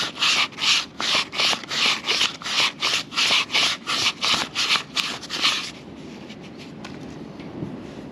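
Fine 6000-grit sandpaper rubbing rust off a metal part of a 1976 Yamaha DT250C motorcycle, about a dozen steady, close back-and-forth strokes in an even rhythm that then stop.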